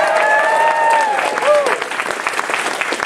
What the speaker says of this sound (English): So big cheer to you, the audience!